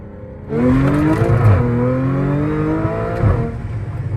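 A 2015 Audi S5 pulls hard in first gear, the engine note climbing steadily in pitch as it revs up from a lower idle-like drone, loud and close from inside the car.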